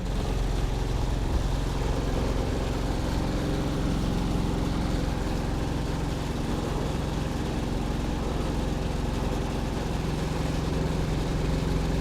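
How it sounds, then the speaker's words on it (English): A dumpster truck works to pull a 10-yard dumpster off, its engine holding a loud, steady low drone that continues without a break, with no talking. "Just pull that dumpster right off."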